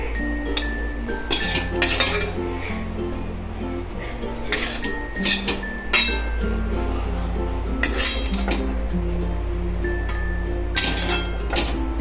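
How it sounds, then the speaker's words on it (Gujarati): Poha with potato is served into a bowl, with a metal spoon repeatedly scraping and clinking against the pot and dishes in irregular close bursts, while background music plays and a voice can be heard. "આપણે સર્વ બોલમાં કાઢી લઈશું સર્વ કરવા માટે"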